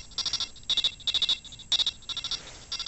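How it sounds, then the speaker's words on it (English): Metal Gear Solid 3 radio call ringtone from the video game playing on an iPhone 3G, a looping pattern of bright, rapid electronic beeping bursts in short repeated groups, loud and alone. "So far I've got the Metal Gear Solid 3 radio call theme."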